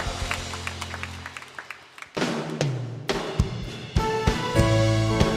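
A congregation claps together during a Sunday worship service, the applause building after a quiet start, with some music and voices mixed in underneath.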